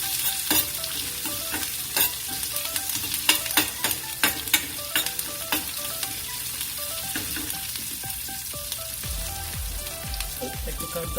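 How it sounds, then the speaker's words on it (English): Curry leaves splutter and crackle in hot oil in a pan, a dense, loud sizzle with rapid popping bursts throughout, joined near the end by a lower stirring rumble. "Step back when you put curry leaves, guys. It's gonna splutter"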